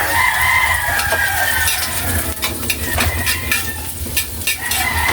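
Garlic being sautéed in a pan reused from frying dried fish, sizzling and stirring steadily and loud throughout, with a rooster crowing faintly in the background.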